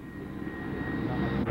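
An airplane flies past at the 1982 Moffett air show, its engine a loud, steady rumbling roar with a thin whine above it, building slightly toward the end.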